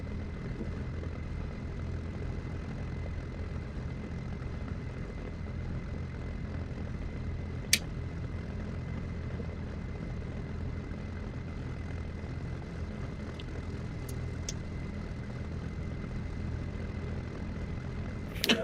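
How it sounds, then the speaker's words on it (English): Light aircraft engine run-up to about 1600 RPM, a steady, fairly quiet propeller drone that holds even throughout, with a couple of brief clicks and a sharp knock near the end. "we'll crank the RPMs up to about 1600"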